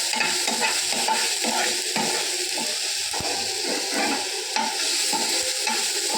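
Tomatoes, garlic and dried red chillies sautéing in a pan for chutney, a steady sizzle with repeated scraping and stirring strokes from a spoon, close and continuous with no talking.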